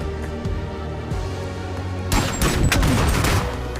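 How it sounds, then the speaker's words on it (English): A small gun firing in a video game: quieter, scattered pops at first, then a sudden loud burst of rapid gunfire that keeps up to the end, with no voices. "Tiny gun."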